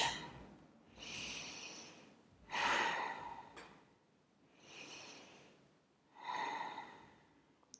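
Deep, slow breaths during a prenatal yoga stretch: four soft breathy inhales and exhales in an even rhythm, close and quiet, with short pauses between.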